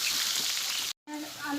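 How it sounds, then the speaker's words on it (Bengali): Potatoes with cumin seeds fry in hot oil, giving a steady, close hiss of sizzling that cuts out briefly and then resumes with crackling. "তেল গরম হয়ে গেছে, একটু জিরে দিলাম, এই আলুগুলো দিলাম। আলুটা লাল করে ভাজবো মাছের মধ্যে।"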